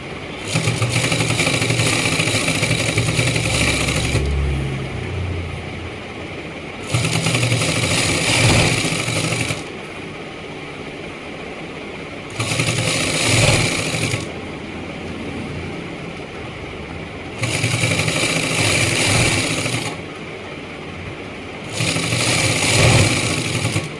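A sewing machine stitches the leg of trousers being made from a shirt, running in five loud, close bursts of steady mechanical whirring, each a few seconds long, separated by short quieter pauses.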